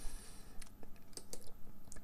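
A few sharp, quiet mouse clicks land at irregular moments while working in Photoshop, over a soft room hiss with no talking.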